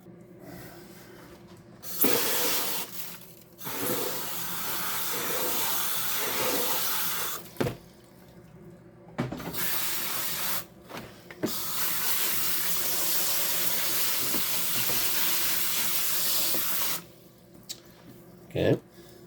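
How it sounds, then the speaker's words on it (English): Material poured into a 100 mesh classifier on an electromagnetic linear-actuator stamp mill, heard as a loud, steady wet rushing and splashing that holds for long stretches, broken by brief pauses and a few clunks. "we'll go ahead and get this material poured in and get it classified out"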